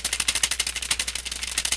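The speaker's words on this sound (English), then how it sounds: "I hit the space bar quite a few times there." A computer keyboard's space bar pressed over and over in fast, even succession, each press a sharp, close click forming a steady clattering rhythm with no talking.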